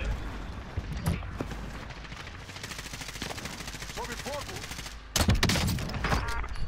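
Gunfire in Call of Duty: Modern Warfare, scattered shots and bursts with a loud burst near the end, mixed with game noise and chatter.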